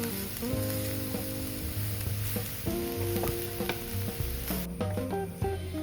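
Spicy beef fries in a pan with a steady close sizzle, while a spoon stirs and scrapes through it, giving irregular clinks and scraping strokes over the hiss.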